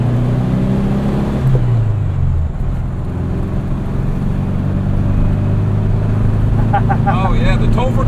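Modified 1966 Volkswagen Beetle with a 4-speed manual gearbox, heard from inside the cabin as its engine drones steadily under acceleration, with the pitch dropping at the shift into fourth gear and someone talking over the noise.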